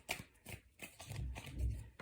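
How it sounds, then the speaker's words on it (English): Tarot cards being shuffled by hand, a soft papery riffling and sliding in several quick strokes, quiet and close with faint low handling thumps. "I'm going to shuffle a couple more times and see what comes out for the Ace of Swords."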